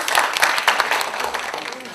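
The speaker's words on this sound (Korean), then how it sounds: "수고하신 다섯분 교사님께 다시 한번 뜨거운 박수 보내주시고요" An audience at a Korean panel forum on emotional education applauds five teachers: brief, dense clapping that starts strong and gradually fades, with a voice speaking underneath.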